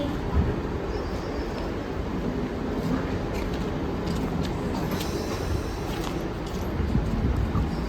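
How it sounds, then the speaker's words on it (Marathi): A train pulling into a station, its continuous low rumble and rolling clatter filling the scene steadily and loudly, with faint bits of background activity. "आमची ट्रेन आलेली आहे"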